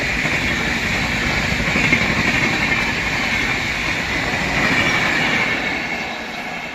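Dibrugarh Rajdhani express train rushing past at speed, a loud continuous roar of wheels and rail noise with faint squealing, steady throughout and close by.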